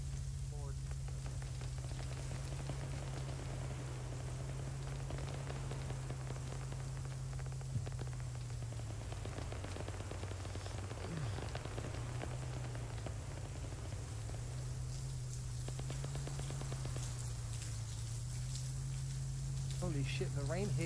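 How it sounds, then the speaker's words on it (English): Steady rain in the video game ArmA 3 patters and hisses continuously, with a low electrical hum underneath and faint voices at moments. "the rain here sounds like someone's pissing"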